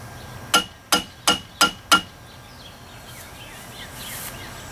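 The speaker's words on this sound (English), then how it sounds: "Then we're going to take the screwdriver and beat them down straight." A screwdriver beats the metal tabs of a boat motor propeller straight, making five sharp metallic taps at an even rhythm, close and distinct, followed by quiet.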